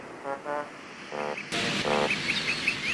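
Cartoon birds chirping in short bursts of bright, repeated tweets, fairly close and moderately loud, with a steady hiss of background noise filling the scene.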